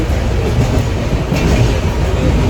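Poorva SF Express on the Howrah to New Delhi run via Gaya rumbles steadily over the rails, heard from inside the carriage as a loud, continuous roar with faint clatter and no talk.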